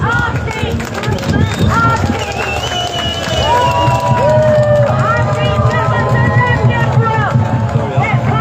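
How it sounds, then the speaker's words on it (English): A large crowd at a Patriots of Britain rally in Manchester cheers and shouts, with whistles rising over a dense, loud roar of voices that holds steady throughout. "Please put one more loud, round of applause for them"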